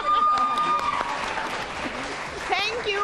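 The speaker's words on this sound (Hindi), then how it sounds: "पता नहीं कोई ताली बजाए कि ना बजाए" Studio audience applause on a Pakistani morning TV show, a dense spell of clapping with scattered crowd noise, partly overlaid by a voice and tonal sounds, loud at first and then easing slightly.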